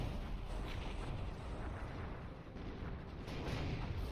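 A dense, unbroken barrage from Lancer units firing on a Crab in the Zero-K strategy game, with overlapping blasts and impacts forming a steady wall of battle noise throughout.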